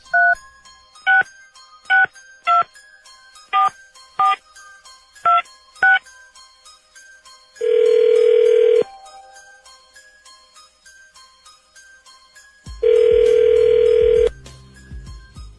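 A string of telephone keypad tones beeps in quick succession, followed by two long, loud ringback buzzes separated by a pause.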